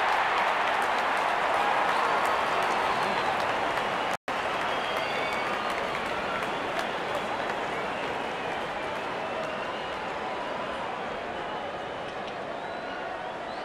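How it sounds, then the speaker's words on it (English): A cricket crowd applauds and cheers steadily as the openers walk out, a continuous dense wash of clapping and voices that stays loud throughout, briefly cut by a momentary gap. "Openers walking in and the crowd cheering in anticipation."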